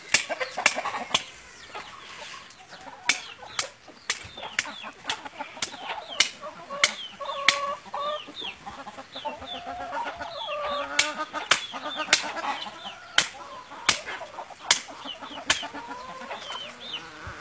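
Chickens cluck and squawk repeatedly at a pig-butchering site, near and fairly loud, with sharp knocks and slaps recurring throughout.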